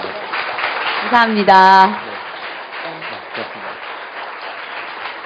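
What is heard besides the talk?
audience applause for an actress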